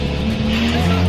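Roughly $300,000 Aston Martin sports car revving hard under a sudden burst of throttle, with a sustained engine drone and tire squeal running loud and close for the whole moment.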